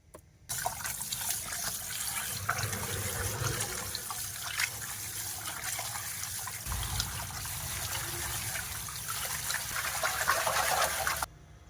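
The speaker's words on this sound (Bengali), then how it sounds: "এইরকম করে আমি সব মাংস পরিষ্কার করে কেটে নিয়েছি, আবার ধুয়ে নেব।" Running water splashes steadily as cut meat is washed by hand in a kitchen, a continuous close trickling and sloshing that starts abruptly and stops near the end, with no voices.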